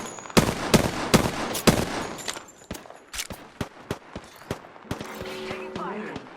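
Gunfire in Apex Legends, sharp rapid shots in bursts, then spaced single cracks trailing off, loud and close with faint game tones late.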